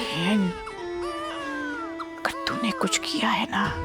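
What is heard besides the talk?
baby crying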